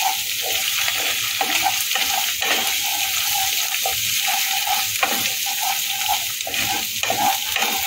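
Ginger and garlic fry in oil for Kung Pao chicken, a constant close sizzle broken by scraping stirs against the pan, with no talk.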